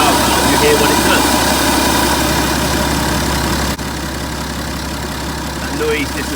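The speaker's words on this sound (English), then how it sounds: "You can hear the air rushing into that inlet there." BMW 530d F10 diesel idling with the EGR valve opened, a steady loud engine drone with a rushing air sound into the inlet that drops away partway through.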